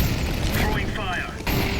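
Incendiary grenade fire in an online shooter game gives a loud, steady, dense roaring burst that fills the whole moment, with a voice briefly audible over it.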